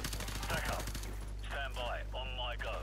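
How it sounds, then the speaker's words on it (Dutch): Gunfire in Call of Duty Modern Warfare Remastered, steady rapid automatic bursts continuing under a voice as he talks. "Ik hoor ze nog schieten."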